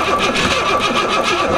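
A Ford Ranger engine cranks steadily on the starter, powered by jumping across the starter solenoid, with a rhythmic churning pulse and a voice heard faintly under it.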